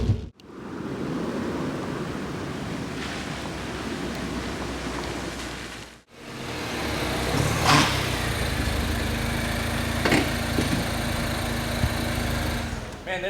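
A MINI Cooper S engine hums steadily under a 4th gear pull, a muted, constant drone mixed with road and wind noise from inside the car, briefly interrupted by a cut before resuming.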